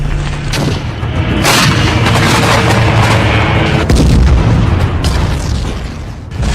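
Explosions and artillery fire in a war zone roar as dense, sustained booms and rumbling blasts, loud and continuous with sharper bursts layered over a heavy low-end wash.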